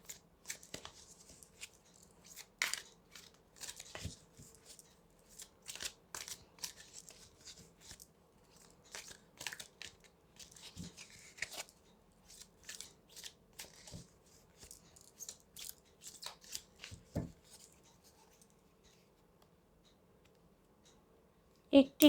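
Oracle cards shuffled and handled at close range: a long run of quiet, scattered papery clicks and flicks with brief crisper snaps, with light talk in the background.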